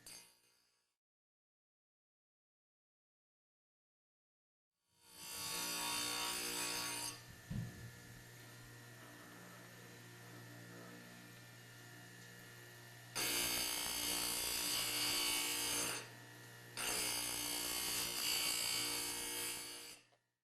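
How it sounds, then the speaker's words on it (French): A grinding wheel sharpens a shaper knife with a steady abrasive whine, broken by two louder bursts of grinding contact. The clip opens silent before the machine sound starts. "Sans toucher au volant, affûtez le couteau semblable."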